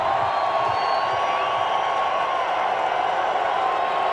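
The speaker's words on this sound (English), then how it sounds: "Here comes the crowd once again." Crowd noise in a college football stadium during San Diego at Montana, a loud continuous roar sustained for several seconds.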